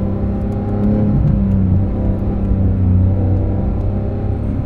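Porsche 991.2 GT3 sliding on all four wheels, its engine a loud, steady, close droning roar with a low rumble that holds almost level throughout, no voices.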